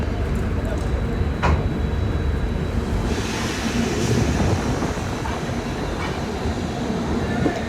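Indian passenger train in an Anubhuti coach running after leaving Kanpur Central toward Lucknow, a loud continuous rumble with rail clatter heard from inside the carriage, while a person talks.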